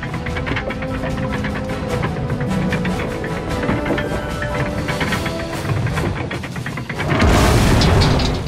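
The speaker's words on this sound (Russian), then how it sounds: "Вот это настоящая бабаха!" Cartoon explosion boom from an animated tank battle, a loud dense rumbling blast that rolls on for several seconds before a sharper, brighter burst near the end.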